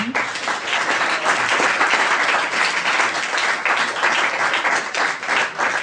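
Convention crowd applauding a voice actor being introduced at a series fair, thick continuous clapping from a large audience, even and loud throughout.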